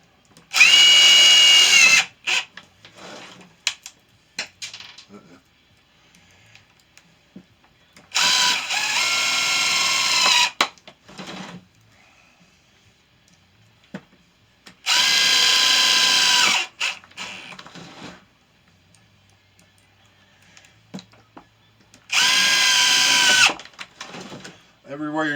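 A power drill driving a couple of screws while building a lighted sign, with several loud whirring bursts of a few seconds each, separated by quiet gaps holding clicks and handling noise.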